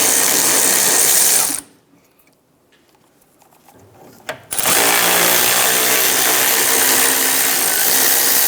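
A ratchet wrench works loose brake caliper bracket bolts on a 2008-2013 Nissan Rogue, a loud, dense mechanical clatter up close that stops briefly for a few seconds, then resumes.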